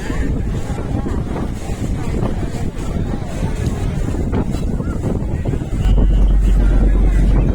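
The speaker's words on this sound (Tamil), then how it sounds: "கடல் சிறிய அளவில் அலையுடன் அருமையாக இருந்தது" Sea waves and steady wind on a sunny beach by a Valluvar statue, with gentle small waves; a continuous loud roar of wind buffeting the microphone and surf wash fills the whole stretch, rising slightly toward the end.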